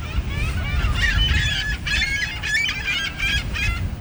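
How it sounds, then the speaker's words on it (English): Seagulls call repeatedly outdoors, harsh squawking cries in overlapping bursts, fairly loud and close over a rumble of wind or handling noise. "attacked by seagulls right now"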